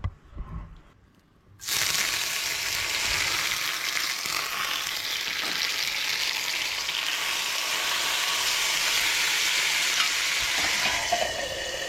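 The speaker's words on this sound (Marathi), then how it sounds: "सतत तडका मारया एकदम सळ करून आवाज येता असो" Tadka tempering for dal bursts into a loud sizzle as spices hit hot oil, a sudden onset after a brief quiet moment, then a steady crackling fry that continues close up to the end.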